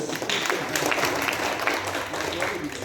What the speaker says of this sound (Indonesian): Tepuk tangan untuk Bapak Nofrizal.